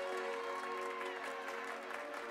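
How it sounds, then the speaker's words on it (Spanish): Applause rises in the survival video game The Forest, a dense, steady wash of clapping layered over sustained tonal game sound, holding at an even level throughout. "Nada, están diciendo que hacer un aplauso."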